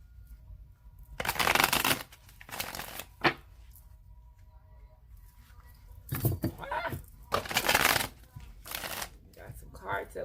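Tarot cards being shuffled in several loud riffling bursts, with pauses between them and a few quick flaps as cards flop out of the deck.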